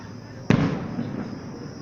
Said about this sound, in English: I just love fireworks.